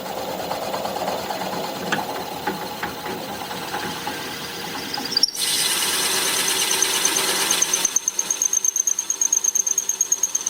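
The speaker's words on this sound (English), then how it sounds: "I'm going to drill out for that" A drill bores into a wood-turned vase, first as a rough grinding whir, then as a sharp, steady whine, ending in a run of rapid rhythmic pulses, close and fairly loud with no talk.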